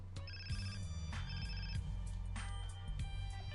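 In the video game GTA San Andreas, a telephone rings in short repeated electronic trills, several bursts in steady rhythm over a low background hum, faint and without talk.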